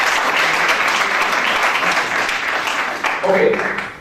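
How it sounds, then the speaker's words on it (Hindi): A dense, continuous round of applause from an audience at a gathering where a Madhya Pradesh police chief met people with disabilities, loud and steady throughout, with a brief voice rising near the end. "तालियां।"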